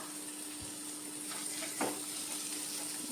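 Chili powder fries in a hot pan while being stirred, a faint continuous sizzle with a couple of soft scraping stirs and a steady background hum.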